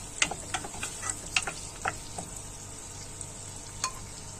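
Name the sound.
chopped onion frying in butter and ghee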